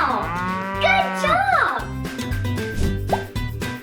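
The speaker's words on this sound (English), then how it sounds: "It's a cow!" Cow moos in a cartoonish children's learning setting, a few drawn-out bellowing calls with bouncy plopping effects and light voices around them.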